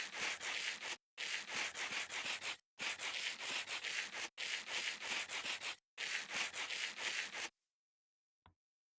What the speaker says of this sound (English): If we hold our sandpaper in our offhand, right? And we hold our rose quartz in our forehand.